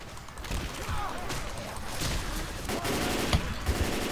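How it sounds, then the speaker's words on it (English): Rapid video game gunfire in Left 4 Dead 2, a dense continuous rattle of shots under a noisy mix, with a couple of sharper cracks near the end. "I was shooting behind us, saving us."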